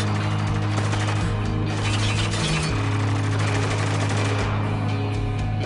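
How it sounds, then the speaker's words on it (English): Machine gun fire in the war shooter Spec Ops The Line: continuous, loud, rattling automatic bursts with crackling impacts and shattering debris over a constant low rumble. "So there's two machine guns."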